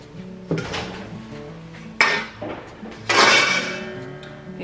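Metal utensils clatter and jangle in a kitchen drawer while someone digs for a clip during homemade pizza prep, with three bursts of rattling at close range and no talking.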